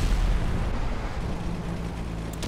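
Cannon fire from a naval battle game, a loud sustained booming roar that fills the moment and slowly fades, with no talk over it.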